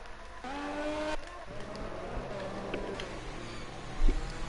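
A race car in a sim racing video game on a Russia circuit sweeps past with a rising engine note and brief tire noise, then fades under a steady engine drone.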